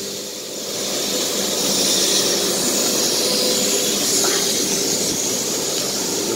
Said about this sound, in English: Boys are cutting another work boat over here on the CNC machine.